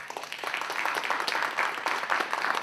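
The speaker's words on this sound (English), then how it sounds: "please give a hearty round of applause to our guest" Audience applause for a guest speaker at a book talk, steady dense clapping filling the whole stretch at moderate distance with no voices over it.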